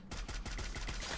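Rapid gunfire from the battle royale game Free Fire, a burst of about eight close, loud shots in quick irregular succession filling the moment.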